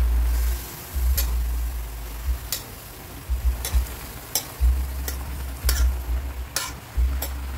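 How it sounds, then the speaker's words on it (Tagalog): Vegetables are stirred in a cooking pot, with repeated sharp utensil knocks against the pot at irregular intervals over low rumbling and a faint simmer, no talking. "Haluin, mekos-mekos."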